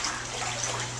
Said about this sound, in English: As you can see, you can hear the water.